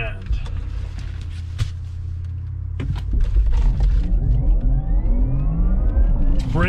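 An electric Porsche Taycan Turbo S pulls away hard from a red light, its rising electric motor whine sweeping upward in pitch over a deep road rumble, heard from inside the cabin.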